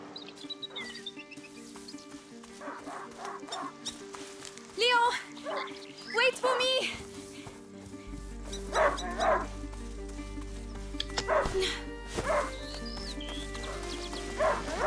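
A hunting dog barks in the medieval adventure game A Plague Tale: Innocence, with several loud barks over a steady musical drone and people talking throughout.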